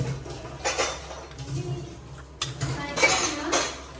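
Utensils clink against a pot and dishes while ingredients are mixed in a home kitchen, a few soft scattered clinks and scrapes at close range, with faint voices talking in the background.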